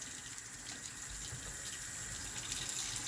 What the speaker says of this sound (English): And then now just start rinsing it off.